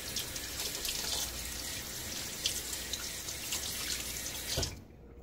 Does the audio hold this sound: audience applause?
no